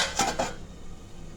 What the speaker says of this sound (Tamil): மூடி போட்டுக்கலாம்.